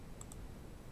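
Two quick, light mouse clicks close together on a computer, faint against a steady low hum, with no voices.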